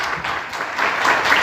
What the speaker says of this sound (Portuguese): Você pode aplaudir esse Jesus maravilhoso?